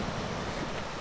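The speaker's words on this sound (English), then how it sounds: "the waves and the beach it's forming over there" Small waves wash onto a newly forming beach near Mud Volcano in a geyser basin, heard as a brief, steady hiss of water mixed with wind.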